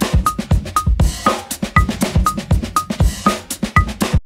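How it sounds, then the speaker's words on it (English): A drum track with a bright cowbell pattern plays back locked to 120 BPM, its punchy kicks and hits repeating in a steady, even groove with no talk over it. "Let's take that same drum track and drop it in."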